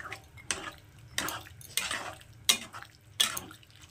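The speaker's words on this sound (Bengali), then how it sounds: "এই সেদ্ধ মটরটা এখন আমি মাংসটার মধ্যে দিয়ে দেবো। এটার সঙ্গে খুব ভালো করে মিশিয়ে নেব" Boiled peas being stirred into chicken in a pan for chicken ghugni, a spoon scraping and clinking against the pan in several distinct strokes about every second, close and moderately loud with no talk.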